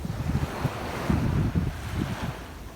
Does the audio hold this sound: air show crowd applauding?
no